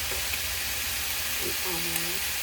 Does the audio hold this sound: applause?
no